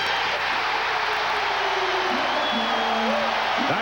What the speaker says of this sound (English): Listen to the crowd as the Knicks lead by 4.